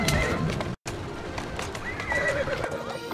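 In Assassin's Creed Syndicate, a horse whinnies loudly up close while hooves clop along, with a brief cut in the sound partway through.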